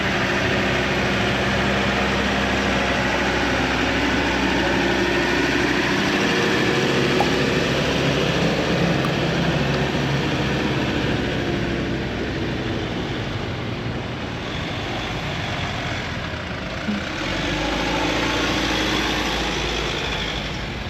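A small camper van's engine labours on the road, a steady loud drone and rumble continuing throughout without talk.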